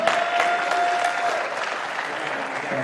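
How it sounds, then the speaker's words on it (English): Sustained applause from an audience at a Dutch Eredivisie squash league match between Amsterdam and Apeldoorn at the Frans Otten Stadion, with a steady, dense clapping that carries on for the whole stretch. "Big round of applause for Jarmo, please, everyone."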